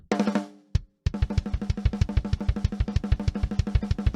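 A dry, sampled 1980s Japanese-made TAMA Rockstar acoustic drum kit pattern with crisp snare hits and punchy kicks, a single opening hit, a brief pause, then a steady, fast groove.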